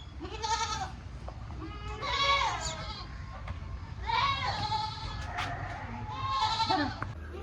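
Goats bleat repeatedly nearby, four loud wavering calls spaced a second or two apart over a low background rumble.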